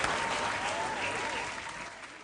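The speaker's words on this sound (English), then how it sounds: "A round of applause." Audience at a school quiz competition claps in a dense, even burst of applause that slowly fades, alone without speech.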